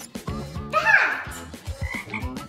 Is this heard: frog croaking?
yes